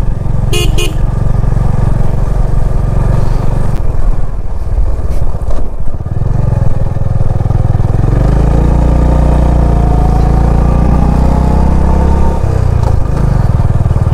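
A motorcycle engine runs loudly up close on a steep hill road near Paradeep, Odisha, its pitch rising and falling as it rides, with a few car horn honks along the way.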